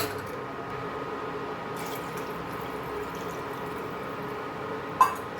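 Water streams steadily into a pot of chicken clear soup, a soft, continuous pouring wash at low level, with a brief clink near the end and no talking.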